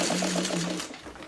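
A sewing machine stitches through a leader ender fabric scrap while piecing a Friendship Star quilt block, giving a steady rapid mechanical whir of close needle strokes that runs about a second and then stops.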